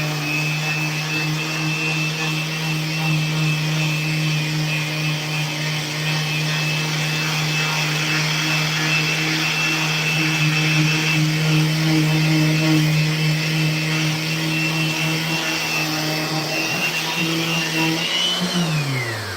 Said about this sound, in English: This is the last step of sanding that these boards get before graphics are applied.